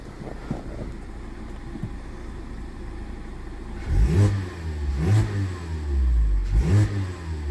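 Mazda MX5 ND fitted with a new exhaust manifold, standard mid pipe and standard back box, heard from inside the car: a low steady engine drone, then three loud rising revs in quick succession.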